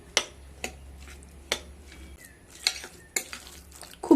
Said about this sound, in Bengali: রাতের বেঁচে যাওয়া 1 বোল ভাত দিয়ে দিলাম, সাথে দিয়ে দিলাম 5 চামচ সুজি, আর দিয়ে দেব 5 চামচ টক দই দিয়ে খুব ভালোভাবে মিশিয়ে নেব।